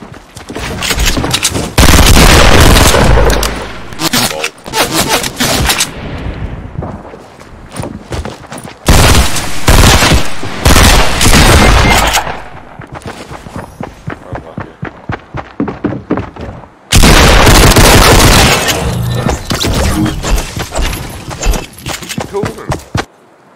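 Video game gunfire in Fortnite: loud rapid automatic bursts and clusters of single shots, repeated in several intense volleys with short gaps between them.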